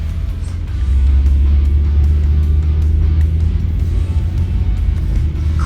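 Nissan Skyline pulling away smoothly from a stop, a loud, steady low engine rumble heard from close by that holds evenly without sharp revving.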